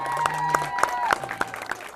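Applause for a youth baseball team at an end-of-season celebration: a busy patter of claps throughout, with a few sharper individual claps and steady tonal sounds running underneath.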